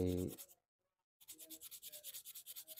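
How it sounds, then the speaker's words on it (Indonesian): A handmade ring is sanded by hand in quiet, rhythmic back-and-forth strokes: a brief rub, a short pause, then about a dozen even, soft scrapes in a row. "Ini diamplas"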